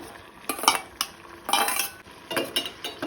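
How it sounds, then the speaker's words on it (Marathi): Prawns being stirred into cooked onion and drumsticks in a pot for an oil-free prawn curry: a utensil scrapes and clinks against the metal in several quick bursts, with faint sizzling between strokes and no talk. "सुंगटां घालून मिक्स करून घेवया, ढवळून घेवया।"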